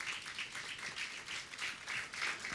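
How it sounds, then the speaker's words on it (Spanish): Church congregation applauding during a Sunday service, a soft, steady patter of many hands at a distance, faint and without talk. "Sí, ya aplaudo"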